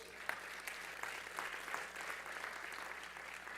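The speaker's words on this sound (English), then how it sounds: "let's have a big round of applause for the successes in access" A convocation crowd at a college fall ceremony claps in a round of applause, heard faint and distant as a soft, even patter of many hands with a few sharper claps poking through.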